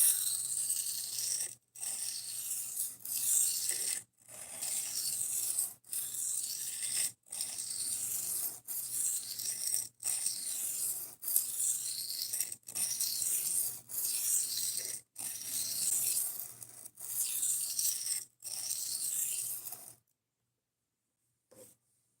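A knife blade is rubbed back and forth on a wet sharpening stone to raise a burr, a close, steady gritty scraping in regular strokes of about two seconds each, separated by brief pauses, ending in silence.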